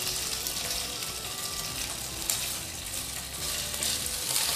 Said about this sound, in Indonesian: Setelah minyak panas, lalu goreng daging udang.